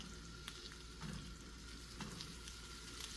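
Gyro meat fries in olive oil in a pan, making a low, steady sizzle broken by a few sharp pops and crackles.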